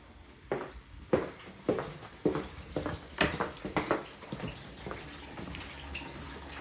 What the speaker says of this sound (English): as you can see here, we have rusty water rolling out, and pretty soon we're going to get steam